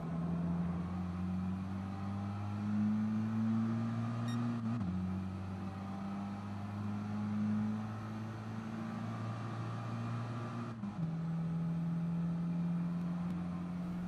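Race car in Gran Turismo Sport on the Nürburgring Nordschleife accelerating out of a turn, its engine a steady droning hum that climbs in pitch, drops at two gear shifts, then holds.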